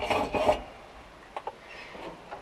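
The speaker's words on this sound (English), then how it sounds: "I'm going to mark the floor pan here." A marker scrapes across the floor pan of a 1975 VW Rabbit in two quick, close rubbing strokes. A few faint, short scratches follow in a quiet space.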